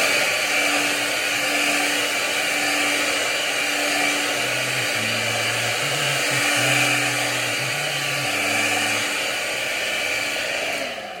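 A hair dryer blows steadily and loudly throughout, drying and warming an ostomy bag flange, a constant whooshing roar with a motor hum and slight shifts in pitch.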